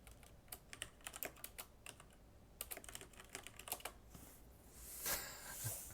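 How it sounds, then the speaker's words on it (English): Fast, uneven bursts of clicking keystrokes come from a loud computer keyboard close to the microphone during a live tabletop game session, then a brief rustling swell at the end. "Yeah, sorry, loud keyboard."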